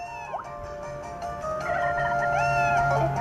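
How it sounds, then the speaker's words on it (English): Chicken in the 3DS farming game Harvest Moon: The Tale of Two Towns, a series of clucking and warbling fowl calls layered over steady game background music, with no talk. "Alright, feed the chicken."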